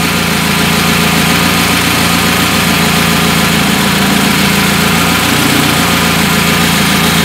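A carbureted car engine idles on LPG with the choke applied, a loud, steady, close running drone with constant vibration and no speech over it.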